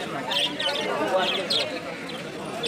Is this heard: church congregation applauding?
no